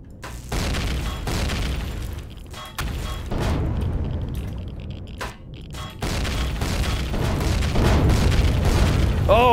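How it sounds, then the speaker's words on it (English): A string of deep booming explosions and crackling bursts in the game Empyrion Galactic Survival as fuel blows up, one after another, with rumbling debris between blasts. "I get caught in all those explosions."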